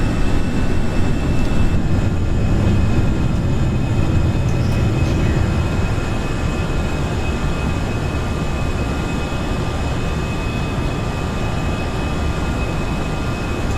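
An Airbus A319 in a flight simulator game roars through takeoff and climb with a loud, steady broadband engine drone that holds constant throughout, no talk over it.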